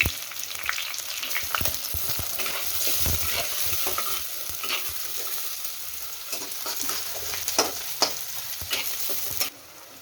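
Three onions frying in hot oil in a clay pot for Odia mutton curry, a dense continuous sizzle broken by scraping stirs and spoon clatter, close and steady throughout.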